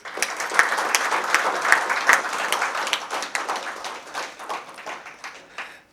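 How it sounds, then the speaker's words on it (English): Audience applause for the Chief Minister at a Manipur and India-Japan partnership event, dense crowd clapping swelling early then gradually tapering off over about six seconds. "Can I request you to give him a round of applause, please?"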